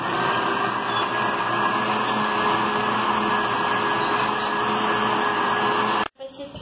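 A kitchen blender whirs steadily, pulsing Oreo cookies into crumbs, a loud continuous motor roar that cuts off abruptly near the end.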